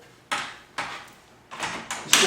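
An Arctic Tern Wildlands door with a fine mesh bug screen latches shut in four sharp, close clunks and knocks, each fading quickly, with no speech.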